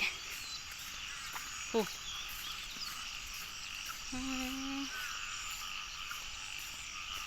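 A few short croaks from narrow-mouthed frogs, one quick rasping call and then a longer buzzing croak, heard over a quiet background hum of night insects.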